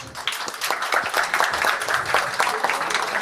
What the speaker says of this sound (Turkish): Daha yüksek alkış bekliyoruz arkadaşlarımızdan.